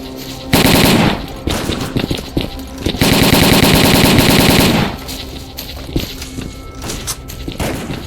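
Loud, close automatic machine-gun fire from the game S.T.A.L.K.E.R.: Call of Pripyat rips out in two long sustained bursts, separated by scattered single shots and thuds.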